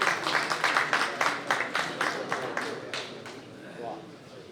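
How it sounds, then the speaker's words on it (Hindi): Audience applause at a Toronto mushaira poetry gathering: a crowd clapping in a brisk, even rhythm of sharp slaps that gradually thins and fades over a few seconds. "आप सबकी भरपूर तालियां"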